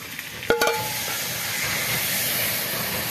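Chicken pieces sizzling in a hot wok for homemade biryani, a steady hissing fry with a couple of sharp clinks of a utensil near the start, with no voices.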